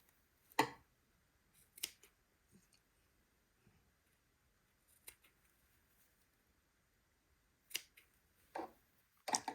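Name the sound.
embroidery scissors trimming threads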